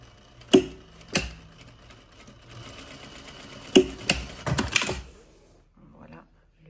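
Domestic sewing machine stitching a 4 cm topstitched tuck to hold a pleat on a jacket, heard as a few short whirring bursts with sharp clicks between them, close and alone.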